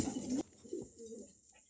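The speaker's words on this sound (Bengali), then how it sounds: "এখানে দুই প্রজাতির দুটো কবুতর আছে" A pigeon gives a short, soft coo, followed by a couple of fainter low murmurs in a quiet setting; a male and a female pigeon of two different breeds.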